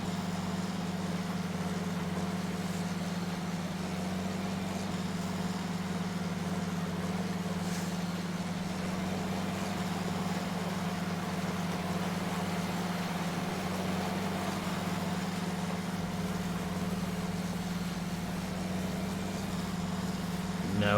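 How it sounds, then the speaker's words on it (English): Tractor engine drones steadily in Farming Simulator 19, a loud, continuous low hum with a constant rumble and no change in pitch, running alone throughout. "This tractor is not what I'd call quiet."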